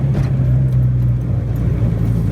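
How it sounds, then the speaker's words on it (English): A turbocharged Honda EK hatchback with a B18B engine downshifts, its engine humming low and steady from inside the cabin, with a short rise in tone at the start and no talking. "You downshift really smooth."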